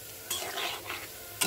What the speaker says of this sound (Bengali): কষিয়ে নিচ্ছি, রসুন, মরিচ, লবণ, হলুদ, সব তেল দিয়ে কষিয়ে নিলাম।